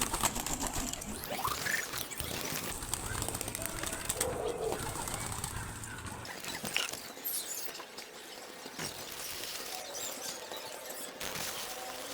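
Pigeons cooing and flapping their wings close by, soft throaty coos mixed with bursts of fluttering wingbeats and scuffling over several seconds.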